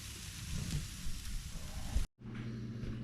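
Red drum fillet laid skin side down on a charcoal grill, giving a steady, hissing sizzle like light rain that cuts out briefly before resuming softer.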